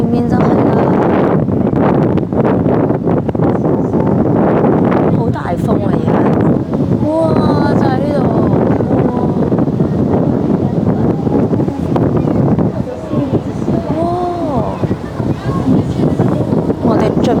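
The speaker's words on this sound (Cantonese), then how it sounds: "好大風啊" Strong sea wind buffets the microphone aboard a small boat near the Naruto whirlpools, a loud continuous roar with excited voices talking and exclaiming over it.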